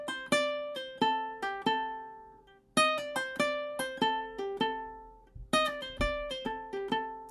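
A ukulele plays a short solo line through, plucked notes ringing and decaying in phrases, close and clear with a couple of soft bumps near the end.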